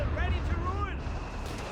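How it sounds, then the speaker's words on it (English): Mortar fire in the real-time strategy game Company of Heroes 3: low, muffled thumps and rumbling in the background beneath someone commentator's talk. "Mortar firing down death as well here."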